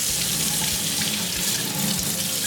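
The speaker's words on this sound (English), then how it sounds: "I'm just going to get my coffee pot under water and get it really warm. I'm using hot water." Hot water streams steadily from a tap over a silver coffee pot in a sink, a constant close splashing rush with no talk.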